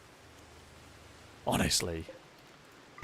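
Rain falling in the video game Rimworld, a soft continuous hiss of steady rainfall across the whole stretch, briefly overlaid by someone speaking a word in the middle.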